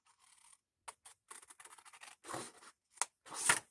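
Scissors cutting paper from an old file folder, a close series of short crisp snips and rasping cuts with brief pauses between them.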